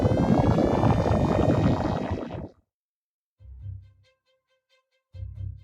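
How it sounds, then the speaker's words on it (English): A data sonification of magma filling its chamber and inflating the seafloor: a dense, loud rumbling wash that stops abruptly, then two shorter low pulsing bursts separated by silence. "Magma filling its chamber and inflating the seafloor will sound like this."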